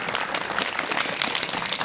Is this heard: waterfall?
no